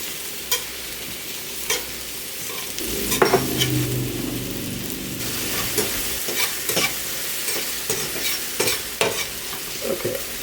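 Mushrooms fry in butter in a pan, a steady close sizzle broken by stirring scrapes and occasional utensil clicks against the pan, loud and continuous with no one talking.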